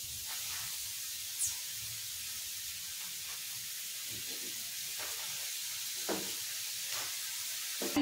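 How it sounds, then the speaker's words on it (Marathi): A washed vegetable roasts on a hot griddle with a steady, faint hiss and sizzle, broken by a few soft crackles and pops; no one talks. "भाजी तर ही भाजून घेते तव्यावर"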